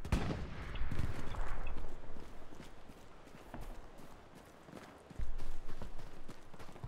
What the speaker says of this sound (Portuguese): Os alemães estão bombardeando aqui o ponto.